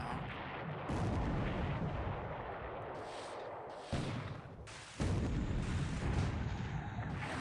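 Torpedo explosions in the War in the Pacific naval wargame, a series of muffled booming blasts, several heavy impacts in succession with sustained rumbling between them.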